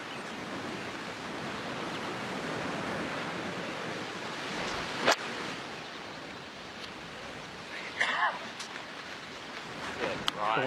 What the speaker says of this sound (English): the wind is gusting right now back into his face